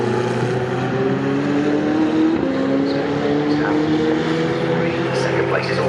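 A Ferrari Challenge race car at Silverstone gives a steady, loud engine drone with rising pitch as it accelerates, under a race commentator's voice.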